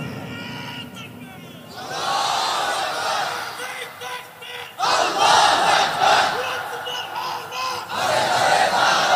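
A large crowd at an Islamic sermon gathering chants a slogan in loud unison, surging in repeated waves of massed voices with brief dips between calls.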